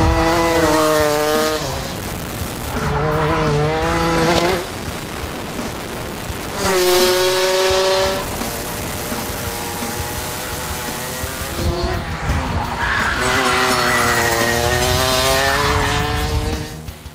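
A racing kart engine lapping a track, high-pitched revving rising and falling through gear changes and corners, loud and close with tire noise between bursts.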